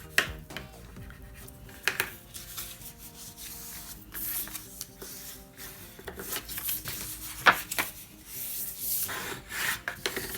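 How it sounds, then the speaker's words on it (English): Scored cardstock for a mini file folder is creased and folded by hand, giving steady close rubbing and scraping with occasional crisp crackles and taps throughout, no voices. "I'm going to fold every score line inwards."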